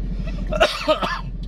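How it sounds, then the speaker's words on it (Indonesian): A person with a lingering post-COVID cough coughs twice in quick succession, short harsh bursts close to the listener, with brief throat sounds around them. "Masih batuk sob."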